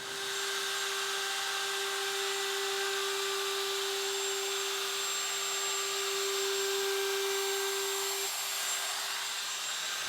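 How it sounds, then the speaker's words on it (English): A router fitted with a 1/8 inch roundover bit eases the edge of rough-cut cherry for a noodle board, a steady high whine running continuously, close and loud, with no speech. "I literally have the smallest roundover bit that I could find on here."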